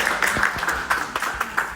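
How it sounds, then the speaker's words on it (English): An audience gives a brief round of applause at a poetry slam, a short burst of scattered hand claps at moderate volume. "Let's give them a round of applause."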